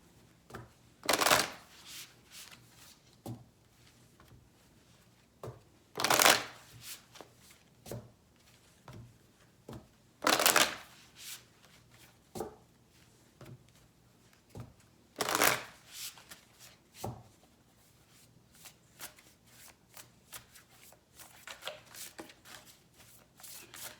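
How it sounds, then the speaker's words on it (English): Several separate bursts of a Spellcaster oracle card deck being shuffled, each a quick riffling rustle of a few seconds, spaced roughly every five seconds, with soft card handling in between and no speech. "let's get a card to close out your reading. Get it from the Spellcaster's deck."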